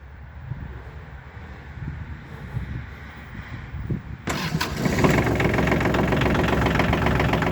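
A Kubota L1 255 25-horsepower tractor engine, preheated with a glow plug, sits at a low murmur, then catches abruptly and settles into a loud, steady diesel run close by, with no talking.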